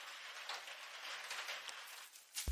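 Rain falls steadily on an enclosed cabin on an evening, a soft, even hiss of drops heard from inside, fairly faint, with a brief bump near the end.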